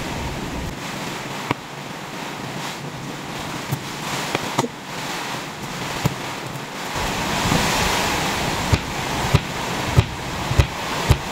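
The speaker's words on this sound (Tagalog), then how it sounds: "Super lakas ng hangin at ulan." Strong wind roars and gusts in a continuous rush, with rain and faint clicks and knocks on top, louder in the second half.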